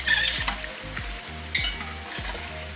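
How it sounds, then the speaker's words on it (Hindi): Onions frying in a pot for degi-style chicken curry, a steady soft sizzle with repeated scraping strokes of a spoon stirring around the pot, close and low, no talking. "इसको हम गोल्डन होने तक फ्राई करेंगे, जब तक गोल्डन नहीं होता।"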